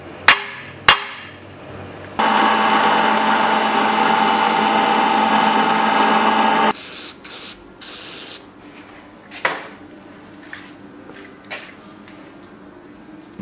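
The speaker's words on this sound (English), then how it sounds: "This is where we're going to drill the hole for the torsion spring." A few sharp knocks, then a power drill whirs loudly and steadily for about four seconds, drilling a hole for a torsion spring on a 2010 Kawasaki KLR650 motorcycle, before stopping, followed by scattered clanks and taps.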